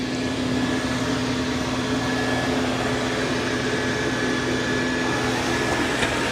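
Dreame L10S Ultra Gen 2 robot vacuum running in vacuum-only mode over a messy floor, giving a steady, close whirring hum with a constant motor tone and no breaks.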